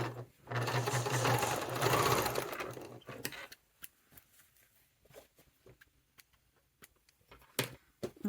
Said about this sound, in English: I'm going to sew over this again from the back because I noticed that my seam went kind of crooked.